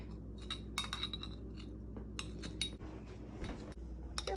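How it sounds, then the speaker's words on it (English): Metal knife clinking against a glass bowl while pressing homemade butter made from raw milk, with rapid irregular bright clinks and scrapes repeating close up throughout. "Sorry for all the clinking."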